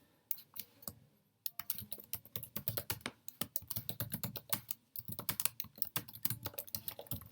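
Steady typing on a computer keyboard as a task subject is entered in CRM software. A dense run of crisp, close keystrokes follows a brief pause, with only small gaps between short flurries.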